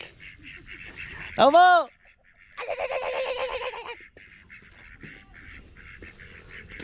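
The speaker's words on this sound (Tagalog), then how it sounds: "Sumasagot yung mga itik." Ducks on a muddy farm call out in answer, a loud nasal honking burst followed by a longer run of rapid quacks, nearby, with a person's voice and outdoor background noise around them.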